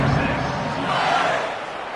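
Home crowd cheering at a college football game in the video game College Football 27, a steady broadband roar that holds for the whole stretch and eases off slightly near the end.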